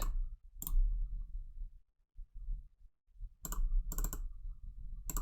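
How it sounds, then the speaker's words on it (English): Several sharp computer mouse clicks, a single click early on, then quick clusters of clicks later, close and distinct against near silence. "Why can't I just click on it?"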